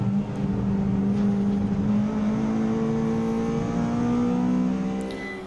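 Race cars lap Brands Hatch, a Peugeot passing with a steady, rising engine drone that holds loud and near for several seconds before easing away at the end.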